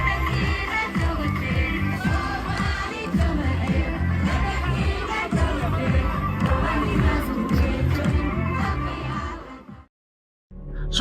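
A dense crowd gathered for a visit in Las Anod, a steady roar of many voices with shouts and cheers close by, lasting continuously before cutting off abruptly near the end.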